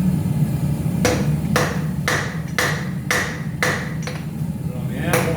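Hot metal is hammered on an anvil while forging a Christmas decoration, six evenly spaced ringing blows about half a second apart over a low background rumble.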